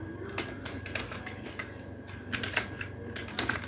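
Typing on a computer keyboard during Python list coding, a steady run of quick, light key clicks at close range with a few louder taps near the end and no voices.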